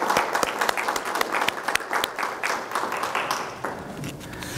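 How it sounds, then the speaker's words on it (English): Evening graduation ceremony for the Class of 2023, where the audience gives graduating scholars and their families a sustained round of applause, dense steady clapping filling the room at close range throughout. "let's give those families and those scholars their very first round of applause this evening"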